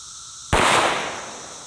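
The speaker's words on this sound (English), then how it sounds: "shooting it out of my brand new Canik TP9 SFX" A single sharp, loud 9mm shot from a Canik TP9 SFX pistol fired into concrete, a sudden close crack with a brief ringing decay afterward over steady background noise.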